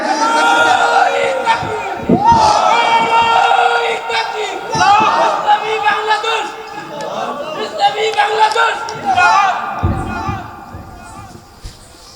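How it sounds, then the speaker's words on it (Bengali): A large crowd at an Islamic sermon chants takbir in loud, rising collective shouts, several swells of massed voices answering in waves over about twelve seconds. "একজন তাকবীর দেন, তাকবীর দেন, তাকবীর দেন"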